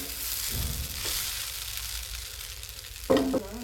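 Cluster bean dal usili with curry leaves and grated coconut sizzles in a pan, a soft steady frying hiss with a couple of stirring scrapes, quiet and close.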